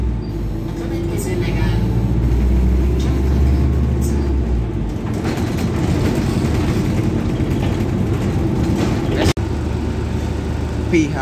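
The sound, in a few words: Volvo 7700 hybrid bus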